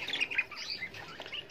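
Budgerigars in an aviary of budgie nesting boxes chirp and twitter in a quick, busy chatter of high calls, fairly close and continuous throughout, with no talking.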